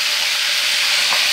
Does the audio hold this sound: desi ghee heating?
yes